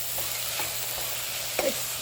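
Onions and lentils sautéing in a pot for Indian lentil soup make a steady sizzle, with light spoon stirs and one sharper scrape near the end.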